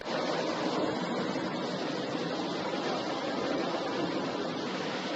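Nevada Falls in Yosemite National Park roars as a dense, steady rush of falling water, constant and fairly loud, heard from the rock staircase trail below with no voices.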